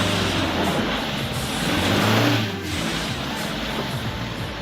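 A Toyota Fortuner 4x4 engine revs loudly while pulling out of water, a continuous heavy roar that rises in the middle and then eases slightly as it drives on.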